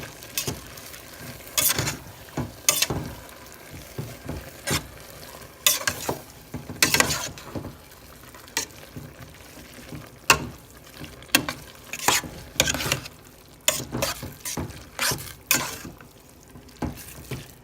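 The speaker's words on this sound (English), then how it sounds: "a tablespoon of the onion paste. I'm going to let that stir up." Onion paste sizzles in a hot pan while a spoon stirs it, with repeated scraping strokes cutting through the steady frying hiss, close and fairly loud, no voices.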